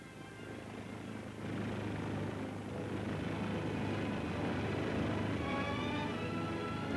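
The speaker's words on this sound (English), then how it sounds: "Today, the helicopters fly for victory." Steady droning rotor and engine noise of a military helicopter in a 1957 film, continuous and fairly loud, growing slightly stronger after the first second.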